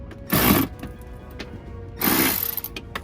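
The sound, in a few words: tightening 8mm bumper bracket bolts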